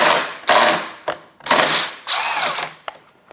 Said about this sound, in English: we're gonna need to remove 4 more 10mm size bolts